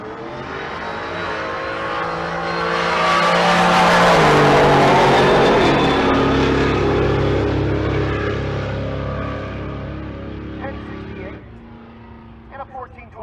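At a drag race during Race Week in Pueblo, Acton's Dodson car from Ward Performance runs against Leroy Davidson's 1955 Chevy truck. Engines roar up to a loud, sustained howl, then fade into the distance while an announcer talks over the noise.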